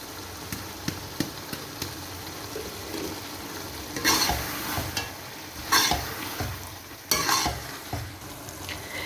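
Chicken mince cooked with ground cumin, coriander and fresh coriander is stirred in a hot pan, with a low sizzle under several louder scraping stirs that come in bursts.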